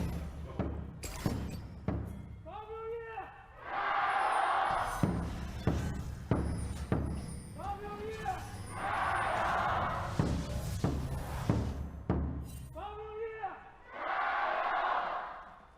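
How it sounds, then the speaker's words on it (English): A hometown crowd in a Xi'an esports arena roars in repeated surges during a 2018 League of Legends LPL Summer Split match between Edward Gaming and Team WE, alternating with an announcer's amplified voice and thumping. "Time to hear from the crowd."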